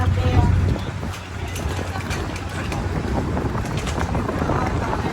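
Strong wind buffets the microphone in continuous rumbling gusts, with faint voices and engine-like noise underneath.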